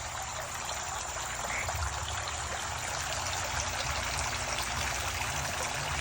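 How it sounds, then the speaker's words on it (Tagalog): Water runs steadily from a shower for crayfish, a constant hiss and trickle at moderate level, without voices. "ano na itong shower sa crayfish"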